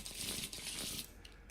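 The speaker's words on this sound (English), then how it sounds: "we can go and shuffle the deck" Deck of playing cards for a Lord of the Rings card game being shuffled close up, a quick riffling flutter for about a second before it tapers off.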